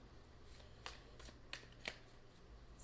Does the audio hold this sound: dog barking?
no